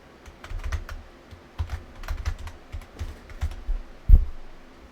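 Quick bursts of keystrokes on a computer keyboard, close and fairly loud, with irregular clusters of clicking and one heavier thump near the end, no talking.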